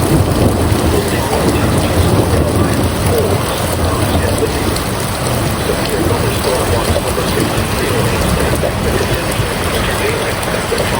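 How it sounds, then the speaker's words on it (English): Steady, loud rain from a severe thunderstorm, with broadband rumble that fits thunder, continuous for the whole stretch with no clear breaks. "Look at that thunder."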